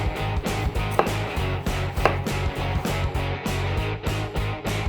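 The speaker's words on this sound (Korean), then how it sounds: "이 감자가 쌀과 같은 속도로 익어야 되니까 조금 잘게 썰어줄게요." A knife chopping potatoes finely on a cutting board, quick regular chops repeating steadily and close up with no talking.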